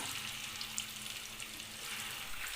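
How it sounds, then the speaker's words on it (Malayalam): Chicken 65 pieces deep frying in hot oil give a steady, dense sizzle with fine crackling throughout, close and moderately quiet, with no talking. "ഈ ചിക്കൻ ഇപ്പം നല്ലോണം ഒരു സൈഡ് നല്ലോണം ഫ്രൈ ആയിട്ടുണ്ട്"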